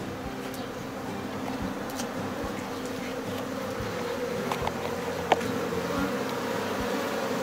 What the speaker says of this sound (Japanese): ここの蜂が分蜂して 今空を舞ってます。